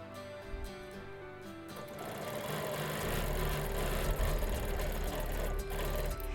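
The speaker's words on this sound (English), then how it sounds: "I'm using the Q16 here, which has a stitch regulator built into it. So I can go pretty fast." A Q16 quilting sewing machine with a built-in stitch regulator runs at speed along a fan quilting template, its needle whirring in a steady, fairly loud drone that starts up after a quiet opening and continues without talk.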